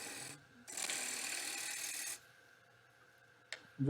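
A wood-turning gouge cuts into a wooden bowl spinning on a lathe, giving a steady rasping scrape that holds for about a second and a half, then stops, followed by a quieter hiss and a brief scrape near the end.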